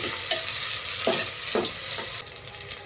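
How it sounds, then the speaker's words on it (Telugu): Onions frying in a pan sizzle loudly and steadily up close, with a few brief stirring scrapes cutting through the hiss before it drops slightly toward the end. "కొంచెం ఉల్లిగడ్డ వేగినాయండి"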